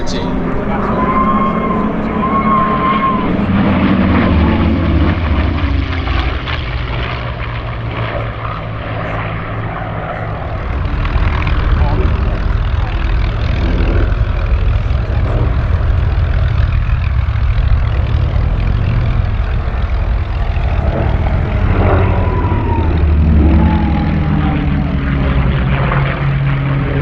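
Flying Bulls propeller aircraft in an aerobatic display at Sywell Airshow 2024, engine drone rising and falling continuously as it manoeuvres, under steady commentary.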